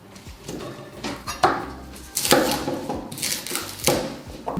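A knife cuts through cauliflower leaf stems on a board, making a series of uneven crisp chops and knocks, several louder strikes clustered in the second half, with no talking.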